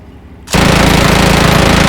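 A vehicle-mounted minigun fires in the video game Squad, a sudden, very loud continuous buzzing roll of rapid shots that cuts in after a quiet half second and holds steady to the end.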